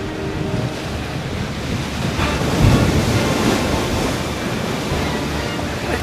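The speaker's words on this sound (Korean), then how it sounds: "또다시 집채만한 파도가 일기 시작합니다" Huge sea waves driven by a strong east wind surge and roar continuously out at sea, loud and sustained with heavy wind buffeting throughout.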